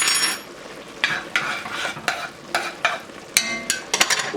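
Wine and thyme get stirred into a pan of mushroom soup, with repeated close scraping stir strokes and clinks over a soft background sizzle, irregular bursts about every half second.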